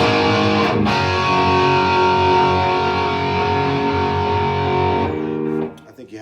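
Crunchy, distorted electric guitar tone from an Epiphone Firebird, a loud sustained chord ringing for about five seconds before it is cut off, with no talking over it.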